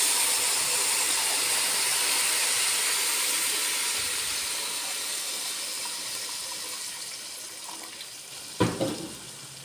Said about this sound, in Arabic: ننزل بقى بالمية المغلية